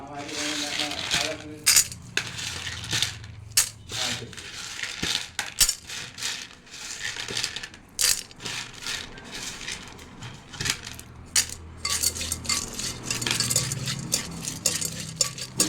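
Corn kernels with coconut oil, salt and turmeric powder are stirred in a pressure cooker, giving repeated scraping and rattling of hard kernels against metal, close and busy, with sharp clinks throughout.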